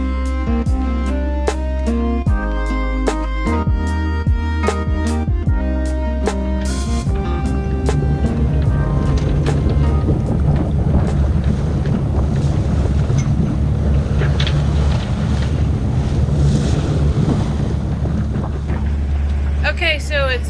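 A sailboat motor-sails into wind and waves on an open-water passage, a steady engine drone and loud wind rumble across the microphone running continuously, with water sloshing against the hull.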